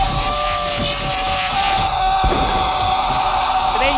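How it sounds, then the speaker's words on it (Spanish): An actor lets out one long, unbroken scream in a film, a loud sustained yell held steadily at one pitch for the whole stretch, with dense noise behind it. "aquí da el grito más largo de toda su carrera"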